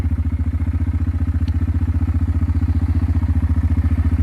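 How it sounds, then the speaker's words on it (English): A 2004 Yamaha Kodiak 400 ATV engine with a replacement carburetor idles steadily with a fast, even chugging pulse, close and loud, holding the same rhythm throughout without stalling. "Let off the gas, and it's still idling without stalling on me."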